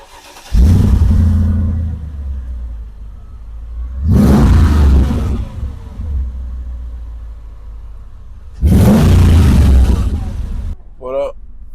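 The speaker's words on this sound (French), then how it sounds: "je vais démarrer la voiture pour qu'on entende ensemble même en vrai" Mercedes G55 AMG V8 engine starting and revving, heard as three loud, deep roaring bursts a few seconds apart, each settling to a lower rumble between them, with a brief voice-like chirp near the end.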